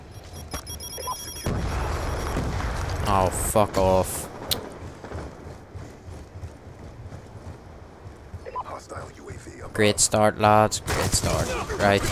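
An M27 rifle in Call of Duty: Black Ops 2 fires in short automatic bursts, loud and close, with quieter gaps of game ambience between the volleys.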